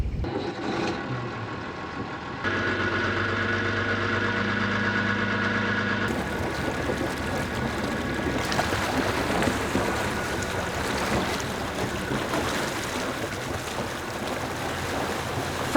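A harbour boat engine on Hayling sets out to tow a broken-down boat back to the marina, idling and then running at a steady loud drone with water rushing and splashing around the hull.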